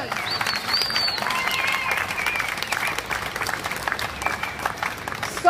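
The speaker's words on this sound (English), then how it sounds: "Yes, that deserves our" A crowd at a Reclaim Australia rally in Sydney claps in sustained, dense applause that stays level throughout, with faint voices underneath.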